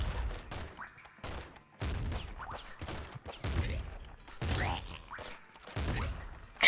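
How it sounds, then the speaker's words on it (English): A triple machine gun in the game Nuclear Throne fires repeated bursts of chunky rapid shots, in several volleys about a second apart, loud and close with brief pauses between them. "Triple machine gun."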